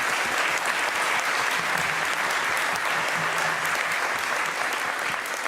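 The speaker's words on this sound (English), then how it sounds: "Can we give everyone in this room and everyone on the live stream a big round of applause?" A room full of people breaks into a big round of applause, dense even clapping that holds steady throughout with no talking over it.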